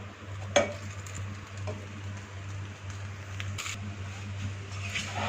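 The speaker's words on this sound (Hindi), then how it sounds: "इनको अच्छे से मिक्स कर लेंगे।" Half a kilo of mashed potatoes is stirred with spices in a pan, heard as a soft, steady mixing sizzle with occasional sharp scrapes and clicks of the spoon.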